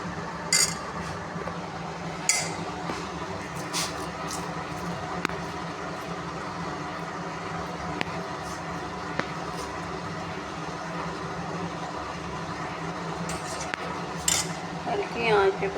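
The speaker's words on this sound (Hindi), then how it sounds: "अब इसको चम्मच से हल्का हल्का हिलाऊँगी" A spoon gently stirs vermicelli in hot milk in a pot, soft metallic clinks and scrapes spaced irregularly over a quiet simmering background, with faint speech now and then.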